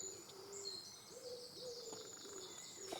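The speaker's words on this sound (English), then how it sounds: "The wood pigeon making a racket in the background along with some of the songbirds." Wood pigeon cooing in a rural setting during air rifle squirrel pest control, repeated soft hooting calls at moderate distance, with thin songbird chirps and whistles higher up throughout.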